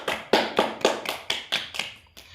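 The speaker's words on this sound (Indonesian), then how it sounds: "tepuk tangan untuk kelompok 2" A fifth-grade Islamic history class in Indonesia claps for a student group, roughly nine sharp, evenly spaced hand claps in a quick unison rhythm that fade slightly at the end, close by with no talking.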